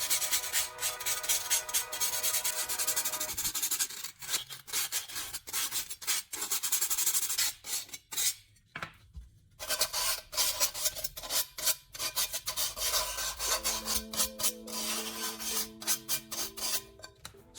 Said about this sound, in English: run sandpaper along the edge to remove burrs